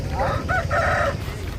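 A rooster of the aseel breed crows once, loud and close, among other fowl at a busy chicken market in Gudur, with low crowd noise beneath.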